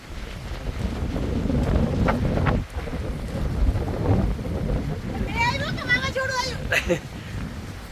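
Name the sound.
strong storm wind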